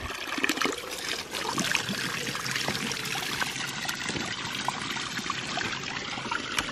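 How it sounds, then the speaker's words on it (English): Water drains through a plug hole at a homestead, a steady, close trickling and gurgling pour that runs on with no break and no voices. "So I put this plug down here to drain the water"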